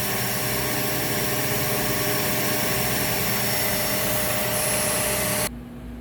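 Kenmore Premalite vacuum cleaner running with both motors on, its broadband roar steady and loud with a motor whine on top, then cutting off sharply near the end.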